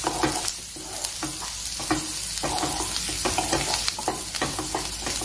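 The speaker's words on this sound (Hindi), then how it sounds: "एक दो मिनट के लिए हम इसे सौते करेंगे।" Crushed peanuts and green chili sautéing in hot peanut oil for spaghetti, a steady close sizzle broken by repeated scraping stirs of a spoon in the pan, with no talking.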